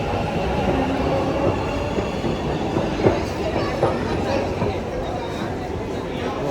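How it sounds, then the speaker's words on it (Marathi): A Bengaluru metro train pulls into a station, its rumbling approach and clattering wheels building under close conversation and the steady hum of a busy platform. "ही मेट्रो आली आता."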